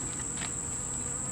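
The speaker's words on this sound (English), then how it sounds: "there's a bee flying at my freaking camera lens" Bee buzzing close to a camera lens outdoors, a faint, thin, steady drone that swells briefly, under a constant high hum, with no talking.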